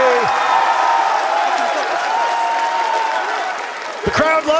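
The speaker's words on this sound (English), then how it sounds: "The crowd loves it." Esports arena crowd at a Rainbow Six Siege major in Atlanta cheering and applauding loudly and continuously, with a commentator talking over the roar and a sharp swell near the end.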